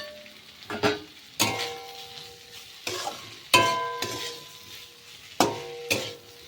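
Cauliflower pieces, with potato and a spoonful of sugar, fry in a pan under repeated stirring: sharp metal scrapes and knocks of the spatula every second or so over a low background sizzle, with no speech.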